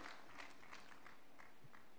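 An audience claps steadily for President Samia at a hospital event, a dense, continuous patter of many hands sustained for a couple of seconds without pause.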